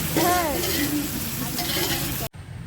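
Chicken frying in mustard oil with bay leaves gives a steady, close sizzle with a voice briefly over it, then cuts off abruptly near the end.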